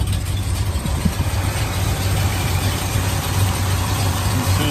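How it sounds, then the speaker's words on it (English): A big muscle car V8 engine idling with a deep, throbbing rumble, steady and loud, with no voices. "Let's take a listen to the engine."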